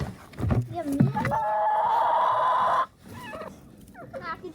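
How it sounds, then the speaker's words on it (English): Backyard chickens cluck and call at close range, with one drawn-out squawking cry in the middle, while a person talks over and between the bird sounds. "You guys get to see our chickens today. Okay, stop pecking at all the stuff."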